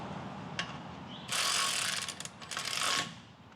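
A ratchet fitted with a 15 mm socket clicks in two rapid bursts of fast, close ratcheting. A faint tick comes before them and quieter mechanical handling sounds fall between them.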